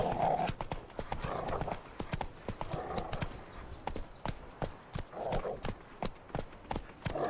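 Horse Roach gallops in The Witcher video game, a steady run of close clip-clop hoofbeats with a few snorts and whinnies, fairly loud, with no talking over it.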